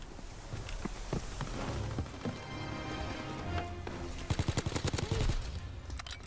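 Gunfire rings out in a shooter video game where a sniper rifle is in play, with scattered shots building to a rapid cluster of sharp cracks toward the end.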